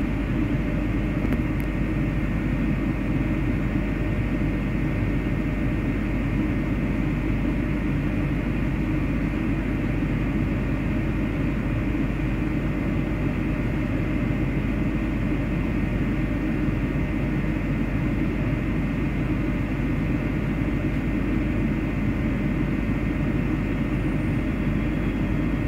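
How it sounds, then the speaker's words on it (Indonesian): The Lodaya 79 passenger train pulls out of Bandung station at night, a loud, unbroken low rumble of engine and rolling stock that holds steady for the whole stretch, with no voices. "ini kereta api Lodaya 79 tujuan Bandung diberangkatkan lebih dulu"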